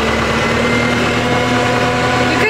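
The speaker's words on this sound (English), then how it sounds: "This Kubota is so weird. That foot pedal revs up and it just sounds dumb." Kubota tractor engine running at steady, elevated revs with a constant droning hum and vibration, loud and close throughout, briefly shifting near the end.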